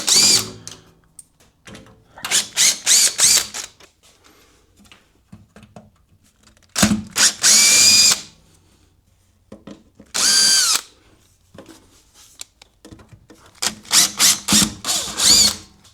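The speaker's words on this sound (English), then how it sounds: "So all you need is a screw gun with Phillips." Screw gun with a Phillips bit backing screws out of the sheet-metal case of a Primeweld 225x welder, loud close whirring bursts of a second or two each, several in a row with quiet gaps between.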